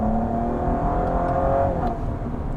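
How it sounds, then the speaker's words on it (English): Twin-turbo V6 of a 2016 Cadillac ATS-V heard from inside the cabin while driving: a steady, fairly loud engine drone with a rising tone partway through, no talk. "it's actually one of the better sounding V6s on the market"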